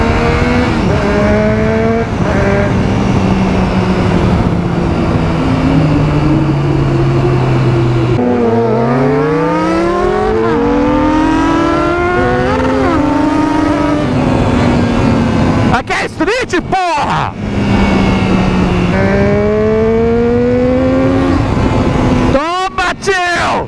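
A Honda Hornet motorcycle fitted with a quick shifter rides along with a loud, steady engine roar, climbing through gears with rapid rising sweeps and sharp cuts between shifts, close and continuous.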